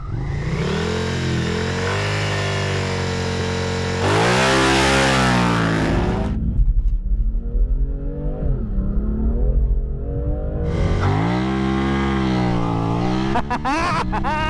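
A car and a Suzuki SV650 motorcycle launch off the line in a drag race. Loud engines rev and climb through the gears for several seconds, cut out, then a high-revving engine returns close by.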